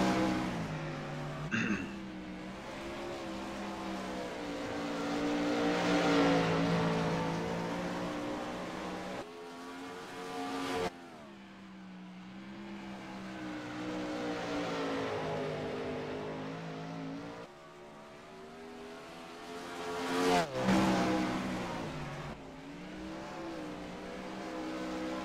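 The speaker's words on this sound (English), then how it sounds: "He won the winged sprint cars, but this is going to be a little different out here for Josh" Sprint race cars roar around a track, engines rising and falling in loud, sweeping passes with rapid revving and brief gear changes, some cars closer than others.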